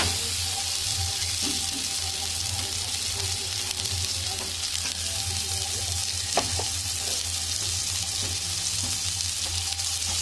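Meat sizzles and fries steadily in a pan as tomato goes in, a constant loud crackling hiss with faint stirring scrapes and a low background hum.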